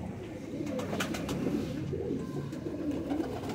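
Kasuri and Sialkoti cross-breed pigeons coo softly nearby, a series of low, rolling calls repeating without any talking.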